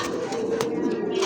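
A domestic pigeon gives a short, close, throaty coo, a low rolling call lasting about a second with faint handling noises around it.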